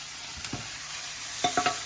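Mangrove snapper pieces fry in a pan with a steady broadband sizzle, broken by a few sharp metal spatula scrapes and knocks, two early and a quick cluster of three near the end, close up with no talk.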